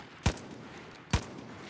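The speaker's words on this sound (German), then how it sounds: "Ich höre Schüsse." Two sharp gunshots from Far Cry: New Dawn, about a second apart, each a short punchy crack standing out from a quiet background with no talking.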